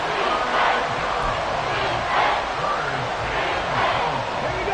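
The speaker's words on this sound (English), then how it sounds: "This crowd turning up the decibel level." A stadium crowd at a football game between the Colts and Texans roars steadily in the closing seconds, swelling in volume in broad waves with no break, a dense wash of massed voices and cheering.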